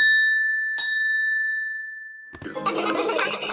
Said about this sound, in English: Then Grandpa Pig tells Peppa to ring the bell.